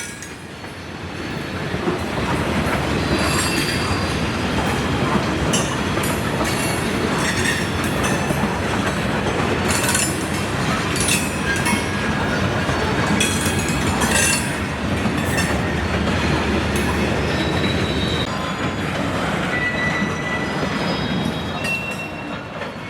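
A Florida East Coast freight train rolls past in summer, a long, loud, continuous rumble of wheels and cars with rhythmic clacking over the rails and occasional bright squeals, steady from start to finish with no voices.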